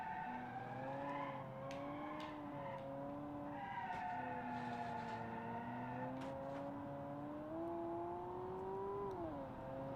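A flat-plane V8 in the Automation car game revs up and down through several sustained pulls with rising and falling pitch, heard alone and fairly faint, with brief tire-like squeals between.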